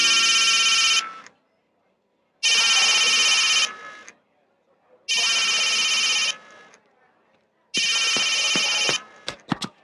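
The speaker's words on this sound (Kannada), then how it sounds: "ಫೋನ್ ರಿಂಗ್ ಆಗ್ತಾ ಇದೆ" A telephone rings in four evenly spaced bursts, each a bright electronic trill about a second long with quiet gaps between, ending with a few sharp clicks.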